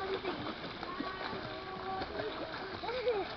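Children splash and swim in a resort pool, light watery splashes and sloshing heard fairly faintly under nearby voices calling out.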